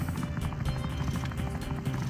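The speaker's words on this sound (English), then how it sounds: "Yeah, the medevac helicopter." A medevac helicopter in the video game Wobbly Life whirs steadily with a fast, even rotor pulse, a constant mid-level drone that runs through the whole moment.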